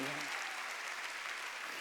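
Congregation clapping together during a Korean church Sunday worship service, a dense, steady wash of many hands that holds evenly throughout, with a faint voice at the very start.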